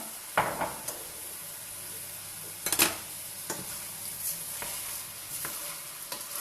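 Raw rice is stirred into a pot of chicken and chorizo, with low sizzling beneath a handful of distinct spoon knocks and scrapes against the pot, close and moderate in volume, with no talking.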